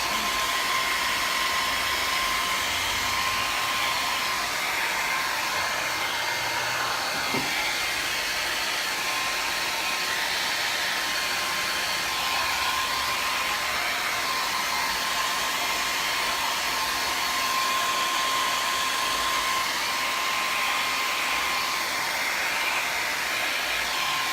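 A hair dryer blows at wet paint on a canvas, a loud steady whooshing drone with a faint motor whine that runs unbroken and close for the whole stretch, with no talk.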